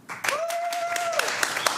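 Brief applause from a comedy club crowd, answering the host, with a whistle rising over the steady clapping and a few louder claps standing out.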